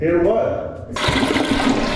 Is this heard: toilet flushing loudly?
yes